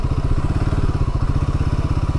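A motorcycle engine chugs loudly and close in a rapid, even thumping rhythm with a clattery edge while the bike is being parked.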